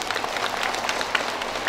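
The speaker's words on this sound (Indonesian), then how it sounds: "Tepuk tangan dulu." A crowd claps at a ceremony handing over rebana drum equipment to religious music groups, a dense, even burst of applause from many hands, fairly close and continuous.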